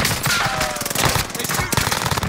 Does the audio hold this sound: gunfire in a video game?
yes